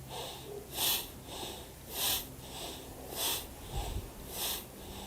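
Strong, rhythmic breaths are pumped forcefully through the nose during a breathing exercise, four loud sniffing bursts evenly spaced about a second apart, close up with quiet gaps between.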